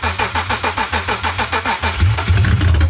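A BMW E36 325i's rebuilt M54B30 engine cranks with a steady rhythmic chugging, then catches and sputters into a rougher, louder running sound; close and loud.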